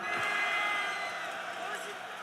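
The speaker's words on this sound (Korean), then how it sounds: "큰 박수 함성 부탁드립니다" Crowd at a political rally launching a citizen lawyers' group in support of President Yoon Suk-yeol, cheering and clapping in a sustained roar of voices that fades slightly toward the end.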